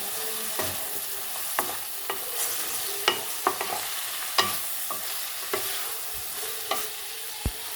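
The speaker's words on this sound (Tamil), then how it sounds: "உப்பு சேர்த்த பிறகு லேசாக வதக்கி விட்டுக்கோங்க" Bitter gourd sautés with salt in a pan: a constant low sizzle broken by regular spatula scrapes and taps against the metal, close and fairly quiet.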